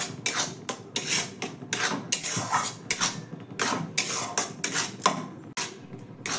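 Semolina dough is stirred and pressed in a pan over a low gas flame, giving a steady run of close scraping, rasping strokes with repeated soft clinks of utensil against metal, with no talking.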